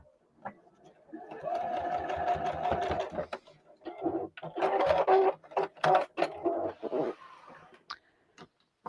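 A sewing machine runs in a steady stretch and then in shorter stop-start bursts while stitching the folded edge of a penguin pot holder, close by, ending in quiet.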